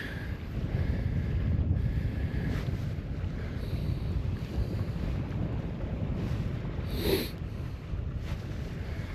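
Wind buffets the microphone on an open shore while lure fishing at low tide, a steady low roar with gusty swells and no talking.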